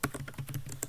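A quick run of crisp clicks from a computer keyboard, ending with a key press, as input is entered while writing a VB6 program. The tapping is close and fairly quiet, with no talking.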